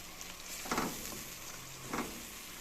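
Arvi leaf curry masala frying in a pan, a steady soft sizzle throughout with two brief louder stirring bursts, no talking.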